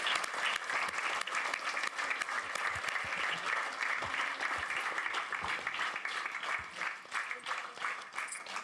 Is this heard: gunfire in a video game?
no